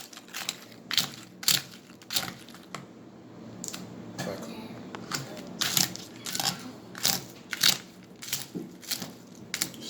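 Doritos chips being crushed with a fork in a bowl for a ramen noodle meal, a series of sharp, close crunches coming in irregular bursts over a quiet background.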